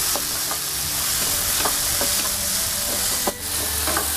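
Tomatoes stir-fry in hot oil, a steady loud sizzle and hiss with repeated scraping clicks of a spatula stirring the pan, close up and without talk.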